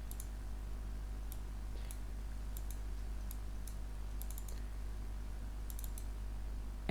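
Computer mouse clicks during Windows 11 desktop customization: sparse, crisp single and double clicks at irregular intervals over a steady low electrical hum.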